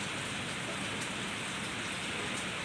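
Steady rain falling outdoors in rainy weather, a dense even hiss with scattered drop patter throughout, fairly faint and continuous with no voices.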